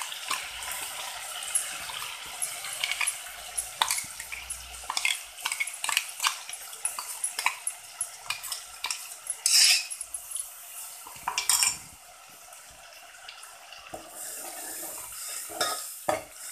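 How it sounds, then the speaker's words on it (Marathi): Ground masala paste for Khandeshi chicken tarri is stirred and fried in plenty of oil over low heat, with a ladle repeatedly scraping and clinking against the pan under a soft sizzle. "छान मसाला आता तेल सुटेपर्यंत परतवून घ्यायचं आहे"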